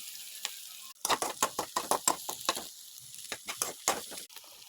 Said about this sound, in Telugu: కొంచెం ఆనియన్స్, చిల్లీస్, కరివేపాకు, కొత్తిమీర, అల్లం పేస్ట్ అన్నీ కలిపి మంచిగా ఫ్రై చేసుకోవాలి.